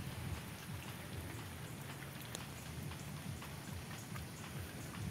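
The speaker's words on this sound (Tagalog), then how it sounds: "Maulan." Steady rain falls on and around a house during a wet spell, a dense, even patter of drops with low rumbling undertone, continuous and fairly close throughout with no voices.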